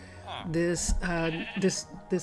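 Sheep bleating in the Minecraft video game, several short wavering bleats in quick succession, loud and close, with a voice talking around them.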